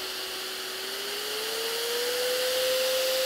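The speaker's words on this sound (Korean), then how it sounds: "이거 켤 때 무슨 소리가 드셨어요? 소리 왕! 좀 심해요. 청소기에 맞먹는 소리라고 해야 될까요?" A Nosiboo Pro electric nasal aspirator running on its medium setting gives a steady, fairly quiet motor whine like a small vacuum cleaner. Its pitch glides slightly upward as it settles, with airy hiss above.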